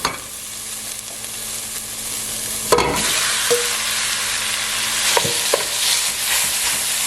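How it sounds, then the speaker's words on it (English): Ground turkey fries with onions in olive oil for lasagna soup, a loud close sizzle that flares as the meat hits the pan, followed by scraping stirs and clacks of the spoon. "now I'm going to add in our ground turkey"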